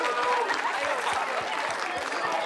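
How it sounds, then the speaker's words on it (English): Audience applause as dancers take the stage, brisk steady clapping from a modest crowd with rhythmic low thumps beneath, continuous over the short span. "Round of applause."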